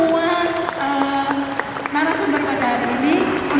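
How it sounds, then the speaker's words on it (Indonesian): An audience at a talk on gender and disability inclusion applauds the speakers, a steady wash of clapping lasting the whole stretch under ongoing voices. "tepuk tangan untuk semua"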